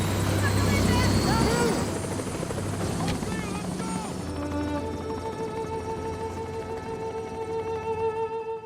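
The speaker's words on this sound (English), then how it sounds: "신생아와 간호사를 겨우 태운 헬기는 돌아오지 않는다는 말을 남긴 채 떠나버리고" A helicopter lifts off from a hospital helipad during a disaster drama, its loud rotor thump and engine whine filling the scene and shifting as it departs, with raised voices shouting over the noise at first.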